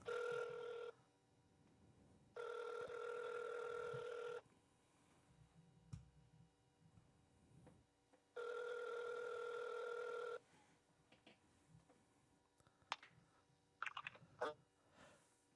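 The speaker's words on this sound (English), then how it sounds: "Let's get this phone call going." Ringback tone of an outgoing phone call, heard as three steady electronic ring bursts of about two seconds each with silent gaps between them, followed by faint clicks and line noise.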